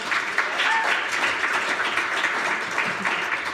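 Sustained clapping from a concert audience at the 2021 Banjo Gathering, a warm, even roar of many hands that holds steady from start to finish.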